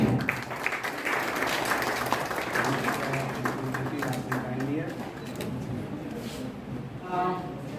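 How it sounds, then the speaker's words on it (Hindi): Clapping from the audience at a public health awareness lecture and health camp greets an honoree, heard under ongoing talk and then tapering off as a speaker begins. "आपके जोरदार तालियों के बीच।"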